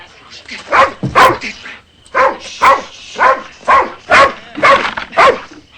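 Dogs bark repeatedly and loudly up close, about nine sharp barks in a fairly steady rhythm with brief pauses, some yelps mixed in.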